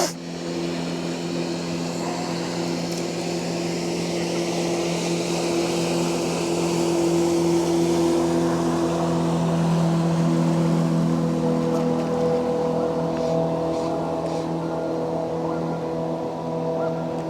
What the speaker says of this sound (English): it looks like a number of boats are heading back this way